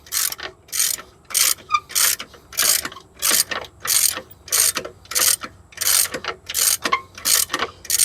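A hand ratchet tightens the belt tensioner on a Jeep TJ Wrangler engine, giving about a dozen crisp, evenly spaced ratcheting bursts in a steady back-and-forth rhythm, close and clear.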